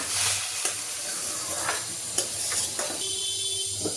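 Mushrooms frying in oil in a pan for a Kannada-style mushroom gravy, a steady close sizzle with occasional stirring scrapes, loud and alone without talk.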